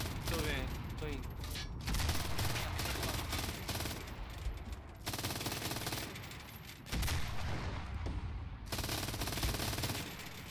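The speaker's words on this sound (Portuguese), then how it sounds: "atirando a metralhadora" Sustained machine-gun fire in the World War II shooter Enlisted, dense rapid bursts filling the clip with brief gaps between volleys, loud and close, with artillery-like booms blended in.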